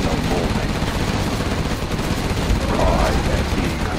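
Sustained rapid firing of a Gatling cannon in the Command and Conquer Generals China campaign, a dense rattling barrage mixed with battle noise at constant loudness.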